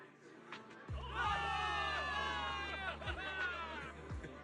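Crowd of soldiers cheering at a victory rally in a video game set in New Eridu, a swelling chorus of shouts and whoops held for several seconds over low, steady background music.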